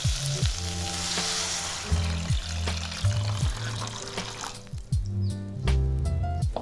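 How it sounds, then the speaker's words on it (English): Shiitake mushroom broth pours into a hot pot for Korean spicy beef ramen, a steady sizzle and trickle of liquid under the low hum of a burner, continuing close and fairly loud throughout with no talking. "now I'm going to pour this shiitake mushroom broth"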